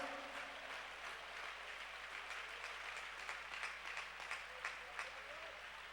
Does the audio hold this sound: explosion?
no